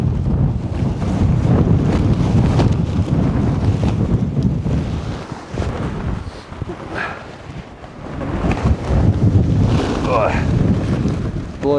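Strong gusts above 50 mph roar and buffet a tent during a storm, steady loud blustering with fabric flapping and a brief lull midway before it surges again; a voice calls out faintly.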